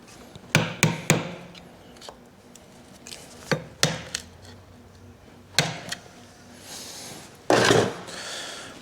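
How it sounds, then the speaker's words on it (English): Sharp metallic taps and knocks ring out as a tool pries up a lock tab on the primary of a 1974 Harley-Davidson XLCH chopper, coming in irregular clusters with quiet gaps and a brief scraping rush near the end. "Just prying up the lock tab here"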